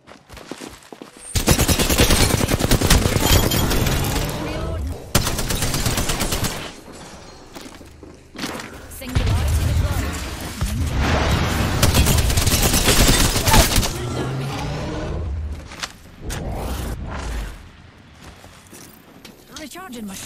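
Loud automatic gunfire bursts in the Apex Legends battle royale game, heavy and repeated in dense volleys separated by short lulls, with a player talking over the shooting.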